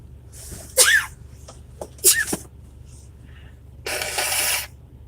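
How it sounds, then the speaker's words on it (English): Two sharp sneezes a second apart, close and loud, followed by a longer noisy burst like a sniff or exhale. "I'm going to sneeze."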